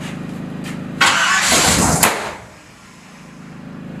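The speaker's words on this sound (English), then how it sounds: "That was an immediate backfire." Engine of a 1965 Marlin car turning over at its first startup, a loud cranking burst lasting about a second ending in a sharp backfire pop, then dropping to quiet.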